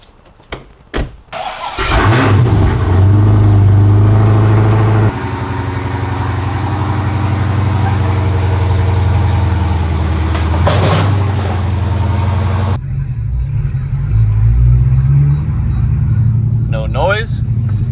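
DriftCat drift car engine running steadily on a test drive, a loud continuous drone with a start-up burst and a shift in tone partway through, heard close from inside the car; no one speaks.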